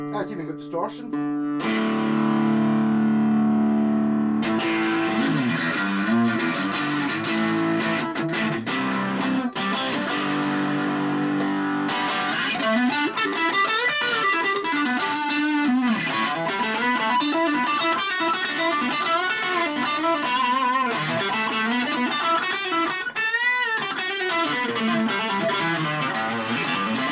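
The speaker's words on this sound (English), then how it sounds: "It's even got distortion." Electric guitar played through heavy distortion, sustained chords and bending notes ringing loudly with a thick, saturated tone and some reverb.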